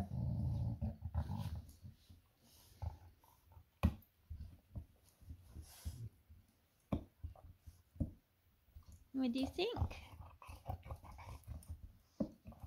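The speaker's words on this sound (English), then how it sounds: "don't worry about the growling" A dog growls in low rumbling bursts while playing with toys, close and fairly loud, joined by a few whimpers and yips, with a person speaking briefly near the end.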